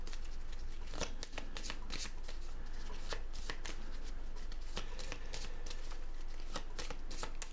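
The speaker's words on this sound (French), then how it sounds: "Donc, je vais remélanger mes cartes." Playing cards for a solo board game being reshuffled by hand, a quick run of crisp riffling bursts and soft slaps repeating at close range, fairly quiet and with no speech.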